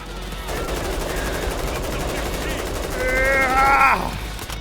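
Gunfire from a weapon in Payday 3 rattles as a rapid burst under an ongoing game soundscape, with a voice talking over it and a brief tonal effect near the end.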